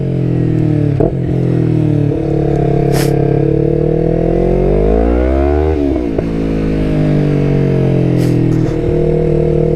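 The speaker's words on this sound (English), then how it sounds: "If you get out on the road and you open it up, you'll feel it, man" A Yamaha YZF-R3 2019 motorcycle engine is opened up on the road, loud and close, revving through rising and falling pitch sweeps with a steady throaty drone throughout.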